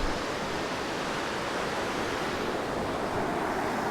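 River water rushes steadily through Kikuchi gorge in Aso Kuju National Park, Kumamoto, a loud, continuous broadband roar with no breaks and no voices.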